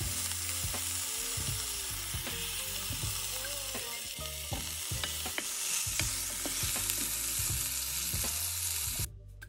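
A quesadilla filled with ketchup and cheese fries in a pan, sizzling softly under repeated scraping and turning strokes in an uneven rhythm, then cutting off abruptly at the end.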